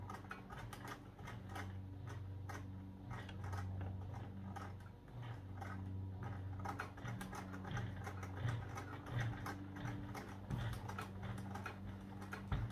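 Sewing machine stitching slowly through a thick side seam of a backpack, a steady low mechanical hum with repeated needle ticks running continuously close by, no talking.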